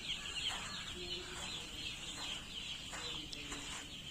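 Young chicks in a poultry farm brooder on day three, a steady background of faint high cheeping and peeping from many birds, continuous and distant-sounding with no clear voices.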